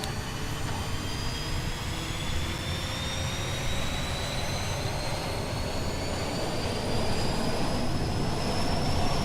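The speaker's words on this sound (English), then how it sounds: "Love the sound of these engines starting up." Airliner jet engines spool up in Microsoft Flight Simulator, a loud steady roar with rising whines that climb slowly in pitch over several seconds, heard alone.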